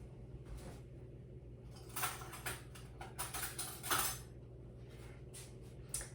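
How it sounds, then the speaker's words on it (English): A spoon grabbed from a kitchen cutlery drawer or tray, several light metallic clinks and rattles in quick bursts, close and fairly quiet over a low background hum. "I need to grab a spoon, hang on."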